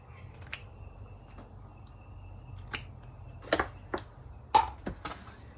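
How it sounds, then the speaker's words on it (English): Scissors trim the edges of a quilt made from vintage linens, with a handful of crisp, separate snips spaced across a quiet room and no voices. "now I'll just trim the edges so we get the full effect"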